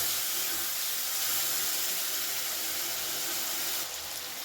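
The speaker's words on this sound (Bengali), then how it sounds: "খুব সামান্য একটু জল দিয়ে দেব যাতে মশলাটা পুড়ে না যায়" Spices sizzling in a pan on a medium gas flame after a splash of water, giving a soft, steady hiss throughout that thins slightly near the end.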